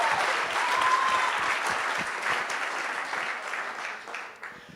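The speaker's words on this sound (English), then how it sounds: "So let's give them a round of applause." Steady applause from an audience at a wedding reception celebrating the hosts, a dense wash of clapping that tapers slightly toward the end.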